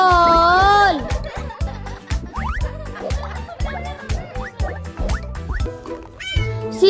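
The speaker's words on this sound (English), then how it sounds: "cat." A cat meows several times in a short sequence of clear, wavering calls at the start and end, heard alongside a bouncy children's nursery rhyme tune with spoken words.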